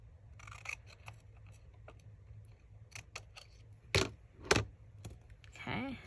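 Scissors trimming paper for a mini Christmas journal ornament: a series of small close snips and cuts, some sharper than others, heard alone with no talk.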